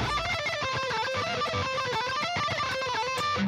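Rapid guitar picking with slack in the pick grip, delaying notes, runs through a quick melodic line, each note sharply attacked in a dense, continuous stream with no voices.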